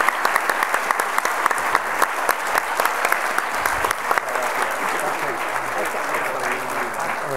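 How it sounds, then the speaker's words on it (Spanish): A crowd applauds at length after a talk on the book "Spinoza en el Parque México", a dense and steady wash of clapping that stays close and loud throughout, with a few voices mixed in. "despedimos con un gran aplauso a Enrique en esta charla sobre espinosa en el Parque de México."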